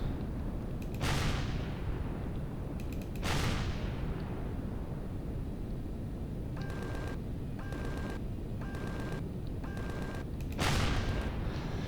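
Heavy gunfire in the space game Empyrion, with three loud booming shots at widely spaced intervals and a run of short repeated tonal blips between them, all over a constant engine-like rumble.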